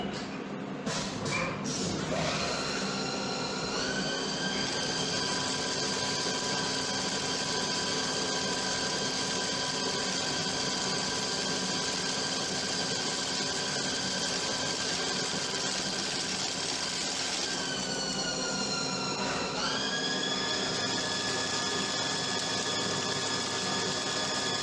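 Metal-cutting machine tool whose spindle speed rises as the working diameter changes, a steady whining hum with layered high tones that climb in pitch near the start and again around twenty seconds, over a constant mechanical drone.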